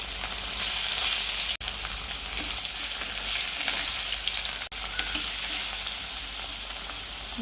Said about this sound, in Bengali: গরম হয়ে গেছে, মাছ দেবো।